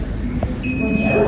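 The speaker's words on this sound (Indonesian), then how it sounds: "Ya, itu alarm power." A GEA HKN90 infant warmer sounds its power alarm: a steady high electronic tone starts partway through and holds on continuously over a low background hum.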